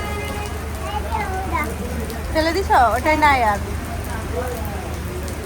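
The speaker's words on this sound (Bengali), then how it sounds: "যেও না, দেখছো কত বৃষ্টি হচ্ছে।" Heavy rain pours down outside a roadside shop, a constant dense hiss of drops drumming on surfaces, while people nearby talk briefly over the downpour.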